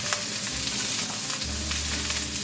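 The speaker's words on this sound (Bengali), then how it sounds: "সামান্য একটু ভেজে নিচ্ছি" Chopped green chilies and vegetables fry in hot oil in a pan over medium heat for egg fried rice, giving a steady close sizzle with faint stirring, and no voices.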